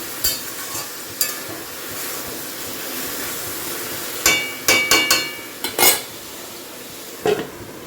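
Gandhal leaf fritters fry in a pan under a steady sizzle, broken by several sharp clinks and scrapes of a utensil against the pan in the second half.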